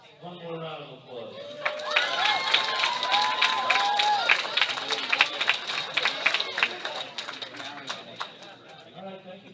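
An audience at a youth powerlifting nationals medal ceremony bursts into sustained applause, with dense clapping, whoops and whistles that swell, then thin to scattered claps near the end.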